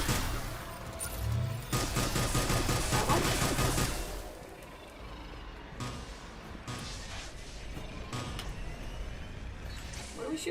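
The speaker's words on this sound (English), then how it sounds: "We're shooting at something, clearly." Sustained gunfire in the video game Mass Effect 3, with rapid bursts and dense volleys loud in the first four seconds, then scattered sharper shots and impacts further back.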